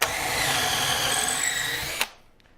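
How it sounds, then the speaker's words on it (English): A power drill bores pocket holes into a wooden aquarium canopy, a loud continuous whine held for about two seconds before stopping abruptly, followed by near silence. "be sure when you're drilling that you're putting your pockets on the side that's the inside and not the outside"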